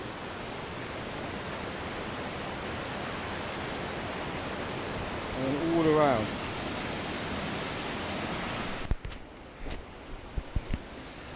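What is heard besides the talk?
rushing stream water below a bridge in Nepal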